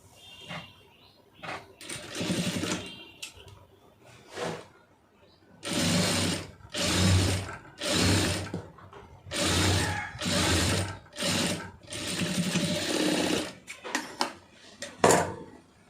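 Sewing machine stitching the side seam of a blouse, running in several steady bursts of rapid mechanical whirring with short pauses between them, close and fairly loud, with faint speech in the quieter gaps.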